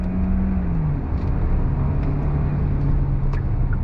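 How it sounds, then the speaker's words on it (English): A 2022 Hyundai Santa Fe Hybrid SUV accelerates under throttle with paddle shifts, a steady close engine and road drone with a rising then settling tone, no talk over it. "On throttle, here we go. Shifting with the paddles."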